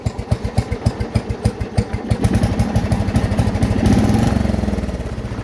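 A small lawn mower engine idles with a steady rapid chugging pulse, close by and fairly loud, the rhythm smoothing into a continuous drone near the end.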